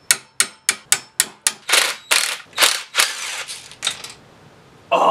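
A hand ratchet clicks in quick bursts while backing out 9/16 inch bolts from the backer plate of a Jeep CJ Dana 20 transfer case, close and crisp, starting as sharp separate clicks and slowing into longer rasping sweeps.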